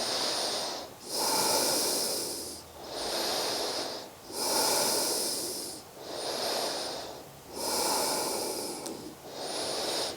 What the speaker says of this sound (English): Breathing here. Ujjayi if you can.